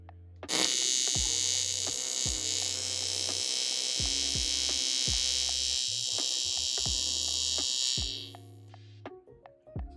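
An electric welder buzzes in a steady, loud crackling hum on a VW Passat body in a home garage for about eight seconds, cutting off abruptly and leaving a few faint clicks afterward.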